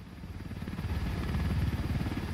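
A helicopter in the video game Ghost Recon Wildlands thrums steadily with rapid rotor chop, loud and close.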